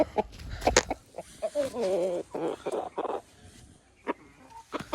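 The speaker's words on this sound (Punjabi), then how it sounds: "ਇਹ ਆ ਰਿਹਾ ਆਪਣਾ ਮੁਰਗਾ" A rooster near a backyard pigeon loft gives loud, close clucks and a wavering drawn-out call, followed by scattered short notes with gaps between them.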